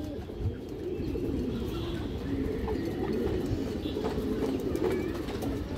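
Soft, steady pigeon cooing from a loft of black-winged fancy pigeons murmurs low and continuous for several seconds, with faint chirps and background hum.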